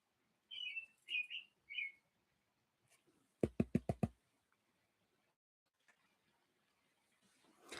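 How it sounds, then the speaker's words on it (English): Several short, high chirping bird calls early on in Colorado, then a quick burst of sharp knocks, with quiet stretches between and faint rustling at the end. "Birds are starting to get loud."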